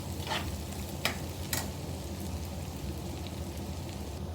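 Curry leaves dropped into hot oil for a Kerala-style bitter gourd stir-fry, giving a steady close hiss of sizzling with a few brief sharp crackles near the start.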